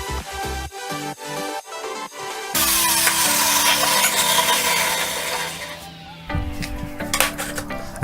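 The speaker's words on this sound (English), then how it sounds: "I angled the blade to 15 degrees and cut a slight bevel into all the pieces." A table saw with its blade tilted to 15 degrees cuts a shallow bevel along wooden pieces, a loud sustained whine and rasp that runs for several seconds after a few knocks of the wood being set in place.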